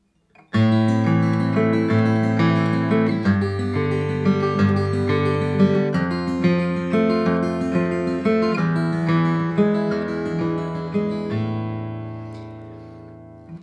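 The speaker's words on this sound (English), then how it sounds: "I'm playing with more fingernail on the fingers as well. This approach is going to give me a brighter sound." Fingerstyle acoustic guitar picked with the fingernails for a bright, loud tone, a steady flowing pattern of plucked notes and sustained chords ringing close up with no talking.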